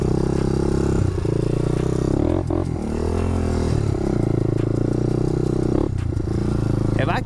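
Loud, steady Can-Am ATV engine drone on rocky ground with occasional clattering knocks and scrapes as the skid plate hits rocks, engine rising and dipping throughout.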